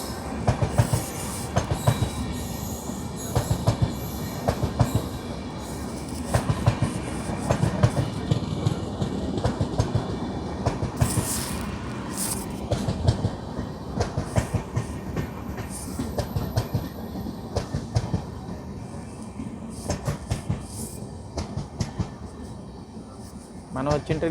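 The Venad Express, Thiruvananthapuram to Shoranur Junction, hauled by a WAP-7 electric locomotive, rumbles steadily past at close range with continuous wheel clatter and rail noise, and people talk over it.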